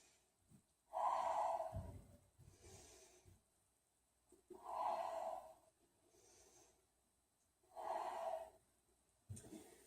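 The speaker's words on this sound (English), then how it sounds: "head to our knee, 3 deep breaths" Slow, deep breaths in a yoga forward fold with the head lowered to the knee, three long airy exhales close to the mic with quiet pauses between them.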